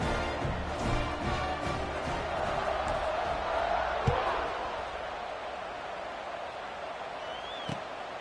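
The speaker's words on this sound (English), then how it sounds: "this crowd now ready to get behind them" Stadium crowd in a football video game, a steady broad roar of cheering with a few thuds, continuous throughout.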